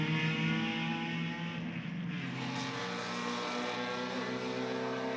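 BMW race cars roar around a track in a club race, a loud steady engine drone with harmonic whine that swells as one car passes close, with no pauses.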